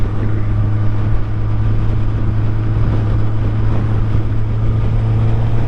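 A 2023 Suzuki Hayabusa motorcycle engine runs at about 3,500 rpm in third gear, a steady low droning hum with a strong constant tone, held loud and close throughout.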